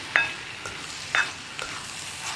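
Stirring cooked lentils with spinach stems in a pan for a Kerala parippu mezhukkupuratti, giving two or three soft scraping strokes over a faint background sizzle.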